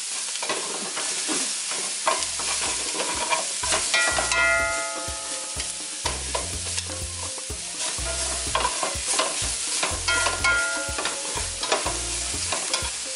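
Onions frying in a pan for lomo saltado, a close, steady sizzle broken by repeated scraping and clattering stirs of a utensil against the pan.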